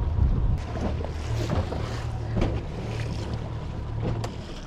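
Strong wind buffeting the microphone in a steady low roar while shad fishing from a boat, with faint water and boat noises underneath.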